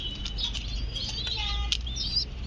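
Blue satin pigeons tending their chicks flutter and shift nearby, with soft wing flaps and faint chirps and coos over low background hum, without any voices.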